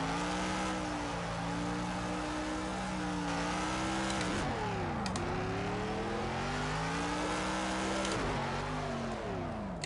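A race car engine in a Le Mans racing game revs hard in second gear during a burnout attempt, a loud continuous droning whine that rises and dips in pitch several times across the clip.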